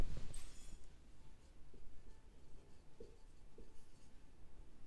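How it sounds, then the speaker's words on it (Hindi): Pen writing figures on paper during an accounting lesson, with soft scratchy strokes and taps close by, faint against a low room hum. "चलिए लिख देते इधर"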